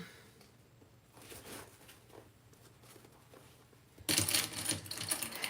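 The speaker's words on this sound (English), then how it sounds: "And we'll sew around the top." A sewing machine sews around the top of a crossbody bag, faint handling rustles at first, then a sudden loud burst of fast stitching in the last second and a half.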